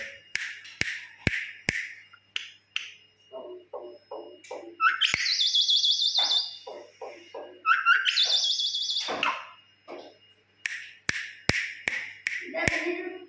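A pet myna bird chatters and calls close up, sharp clicks and whistles followed by long rattling trills and varied squawks, loud and clear with little else around it.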